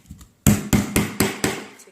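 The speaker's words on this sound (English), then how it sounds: "And I always use a hammer to" Hammer tapping a metal paint can lid shut after staining, five sharp, loud, evenly spaced knocks close by, each ringing briefly before the next strike.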